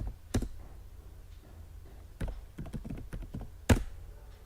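A computer keyboard typed on at a desk, giving a few sparse close clicks and taps, with a quick cluster of keystrokes in the middle and a firm final press.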